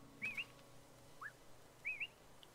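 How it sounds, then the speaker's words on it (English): A character whistles in Animal Crossing: New Horizons, a few short, quiet two-note and rising whistle phrases separated by brief pauses over faint game ambience. "What am I whistling?"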